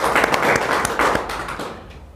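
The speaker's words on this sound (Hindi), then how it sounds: "मैं सबसे पहले इन महानायकों को तालियां बजा करके 2 मिनट स्वागत करूँगा" Audience clapping in welcome at a franchise workshop event, a brief burst of brisk mixed applause that tapers off over two seconds.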